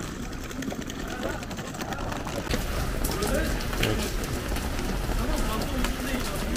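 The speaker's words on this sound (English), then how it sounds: "Okay, now it's starting to rain." Rain begins at an outdoor street market in Istanbul, a soft hiss that thickens and grows louder partway through, with people talking nearby.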